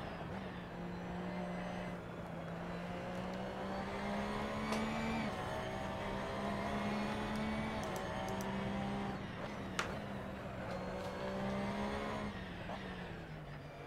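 A race car engine driving at Imola in the video game Assetto Corsa, a steady droning whine that holds pitch, rises and dips slightly through gear changes, with brief tire and bump noises.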